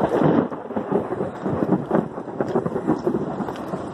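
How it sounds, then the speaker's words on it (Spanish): Thunder rumbles on a rainy afternoon in Cali, Colombia, a deep rolling roar that stays loud for the whole moment with steady rain beneath it. "Sigue pues los truenos"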